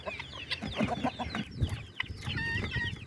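Guinea fowl call loudly and repeatedly on a farm where mongooses are about, a run of harsh, rapid clucking cries at close range with overlapping birds and no talking.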